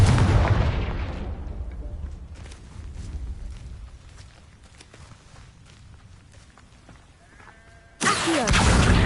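A Confringo blasting spell bursts in Hogwarts Legacy with a loud, close blast that rumbles and fades into scattered crackling debris, followed by a second sharp, loud burst near the end.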